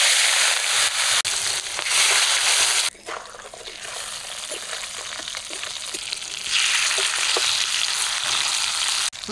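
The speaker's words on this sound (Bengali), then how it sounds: "কড়াইতে মাছ ভাজার জন্য সর্ষের তেল দিলাম" Koi fish fry in hot mustard oil in a wok, a loud, continuous hiss and crackle that eases briefly midway before surging back, with no one talking.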